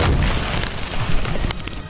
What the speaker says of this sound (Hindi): जब उसमें धमाका हुआ तो पूरी बिल्डिंग भरभराकर जमीन में जा मिली।